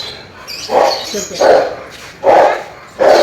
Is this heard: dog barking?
yes